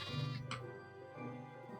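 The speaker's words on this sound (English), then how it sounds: "when I heard the sheep moving around, I thought they were baddies" A sheep bleats in Minecraft, a short wavering call up close and then fainter sounds of movement, fairly quiet with no talk.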